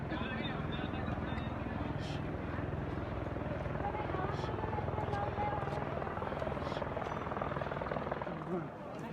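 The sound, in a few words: helicopter flying at Kedarnath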